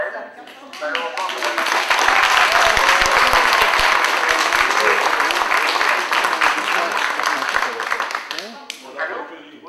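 Sustained applause from a conference audience in Ashdod, dense clapping rising after a second, holding loud for several seconds and tapering near the end, with voices mixed in.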